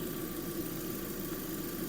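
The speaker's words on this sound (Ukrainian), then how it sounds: "Мотор працює тихо." A 2008 Audi A4 B7 with a 1.6 MPI petrol engine idles quietly, giving a soft, even, continuous hum with a faint steady pulse throughout.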